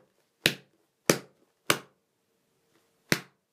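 A hardcover copy of Dracula snapped shut four times, each closing a sharp, clap-like smack standing alone in a quiet room, the first three evenly spaced and the last after a longer pause.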